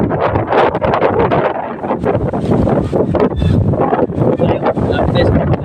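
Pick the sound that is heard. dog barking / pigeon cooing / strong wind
strong wind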